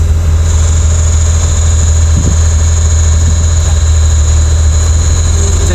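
A Jeep Cherokee XJ engine runs steadily as its transmission is shifted through the gears, a constant loud low hum with a high whine on top and no clear change in pitch.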